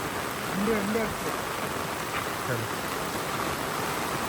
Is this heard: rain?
yes